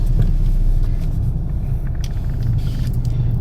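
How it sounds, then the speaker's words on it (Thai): A 2019 Mazda CX-8 2.2 XLD diesel idles steadily just after starting, a loud, even low rumble running without a break and with no talk over it. "เครื่องยนต์ทำงานทันทีนะคะ"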